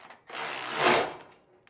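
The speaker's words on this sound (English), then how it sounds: "Now we're going to go ahead and tighten up this bolt that positions our spring mount" A power tool tightens a bolt on the spring mount of a John Deere 7-iron mower deck, giving a single sustained whirring burst that swells and fades, followed by a faint metallic tick, close and alone.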